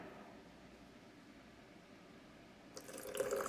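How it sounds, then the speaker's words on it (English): Water trickles steadily into a blender of sauce for pambazos, a soft continuous running stream that grows louder and splashier near the end. "just add a little bit of more water"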